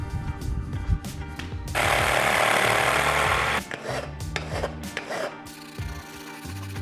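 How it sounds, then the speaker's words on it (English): Corners of a metal footrest for a Porsche 944 being rounded off into large radii, a loud grinding or filing rasp lasting about two seconds, framed by rough scraping and clattering workshop noise with no talk. "Need to cut some corners on this now, put some nice big radiuses on it."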